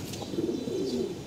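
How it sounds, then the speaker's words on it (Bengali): Pigeons kept by a Bangladeshi hobbyist coo softly in a low, burbling murmur, a steady close chorus with a faint chirp layered above. "এই যে বাইক না কবুতর গুলো আসছে"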